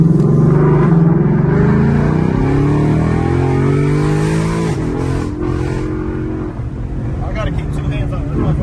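Ford Mustang GT with a 10-speed transmission accelerating hard, a loud rising engine roar with harmonic sweeps as gears climb, heard from inside the car.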